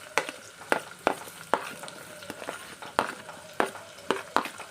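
Onions and curry leaves frying in a pan for Telangana-style brinjal curry, quiet sizzle broken by regular scraping stirs, a crisp stroke roughly every half second.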